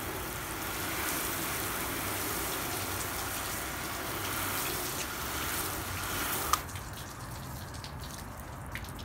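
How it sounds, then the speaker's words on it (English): A shower-setting nozzle sprays water onto a car panel with Drexler ceramic coating, a steady hissing patter that stops abruptly partway through, followed by faint drips and quiet room tone. "I'm gonna put on the shower setting in here"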